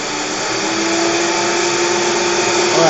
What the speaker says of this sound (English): this is what it would sound like if you were using the Galaxy Buds Pro directly in front of a running blender